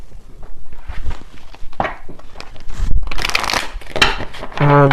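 Oracle cards being shuffled up close, with a run of brisk riffling bursts and soft card slaps, growing denser toward the end under light handling noise.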